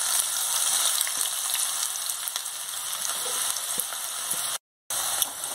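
Chopped onions frying in a pan for egg bhurji make a dense, even sizzle that hisses steadily, with one brief dropout near the end.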